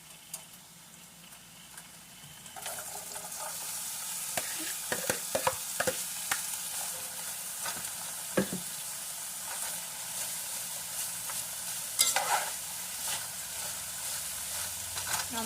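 Vegetables frying in a little corn oil in a pan, a steady sizzle with stirring scrapes and clicks throughout, close and fairly loud, no talk.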